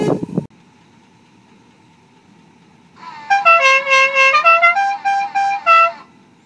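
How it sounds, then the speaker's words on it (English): A Dixie horn on a 1955 second-series GMC/Chevy truck plays its loud, clear tune of rising and falling musical notes over a low idle, following a brief thump and a quiet pause. "I want to hit the horn so you can hear the Dixie horn"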